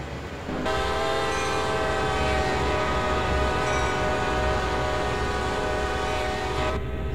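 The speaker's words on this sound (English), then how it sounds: "Listen for its first horn over the crossing." A GP40-2 diesel locomotive in Train Sim World sounds a long, loud, steady horn blast at a grade crossing, sustained for several seconds over the rumbling engine and rail noise, with no talk.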